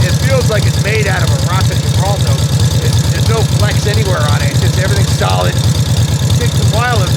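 A 1941 Harley-Davidson hardtail springer motorcycle engine runs with a loud, steady low rumble throughout, while someone talks over it.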